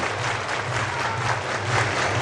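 A crowd of fans at a baseball game claps hands together, a dense, continuous wash of applause filling the stadium.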